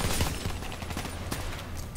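Rapid gunfire in a Black Ops 3 campaign mission, a dense continuous volley of overlapping shots with no break, loud and close against a low rumbling background.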